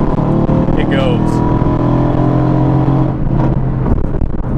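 A turbocharged Mercedes-AMG GT S engine at close range, a steady loud drone with a low rumble that builds under acceleration. A voice talks over it throughout.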